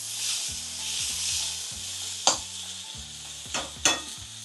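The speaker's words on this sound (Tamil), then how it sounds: "தக்காளிலாம் ரொம்ப வதக்கலை, கொஞ்சமாக தான் வதக்கியிருக்கேன்" Tomato and onion sauté in a pan with a steady close sizzle, broken by a few sharp scrapes of stirring, under soft background music.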